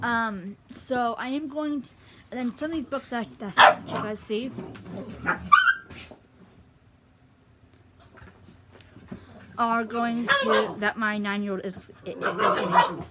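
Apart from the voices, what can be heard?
dogs barking in the background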